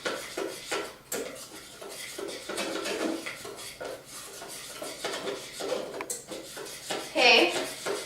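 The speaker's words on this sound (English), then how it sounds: "So I'm going to mix that up real good." A spoon stirs whole wheat brownie batter with water in a bowl, scraping and clinking in an uneven rhythm against the sides, ending with a sharper clink of metal on the dish.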